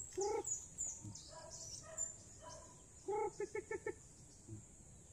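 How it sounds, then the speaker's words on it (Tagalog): Faint, high-pitched peeping from a chick, in short bursts including a quick run of repeated cheeps, heard at a distance over quiet background. "Ayun, narinig ko yung sisiw."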